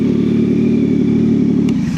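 A 2025 Yamaha MT-09 motorcycle engine runs steadily close by, a loud continuous idle-to-rev drone that shifts briefly near the end, with no voices.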